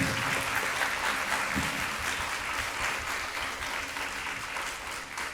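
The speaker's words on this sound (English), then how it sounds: "let's give a round of applause for our speakers and moderators." An audience at a museum forum applauds speakers and moderators, sustained dense clapping from a full room that continues steadily and tapers slightly toward the end, without talk.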